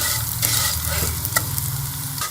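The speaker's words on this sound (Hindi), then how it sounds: "इसमें ये शामिल करूँगी और इसे हम हल्का सा ब्राउन होने तक फ्राई कर लेंगे।" Vermicelli frying in a pan for seviyan kheer, a soft steady sizzle with occasional scraping stirs, close and moderately quiet, with no talk.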